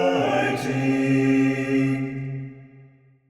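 Short four-part choral harmony, voices moving together in the same rhythm and sustaining a chord before fading out, close and clear with no speech.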